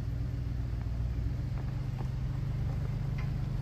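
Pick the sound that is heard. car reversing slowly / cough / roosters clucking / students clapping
car reversing slowly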